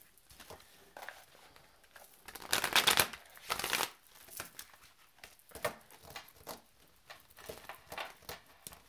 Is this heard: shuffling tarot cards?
yes